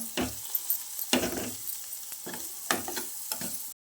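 Paneer fries in a pan with pepper powder and chilli powder for paneer fried rice, a soft ongoing sizzle punctuated by several spatula scrapes and stirs nearby.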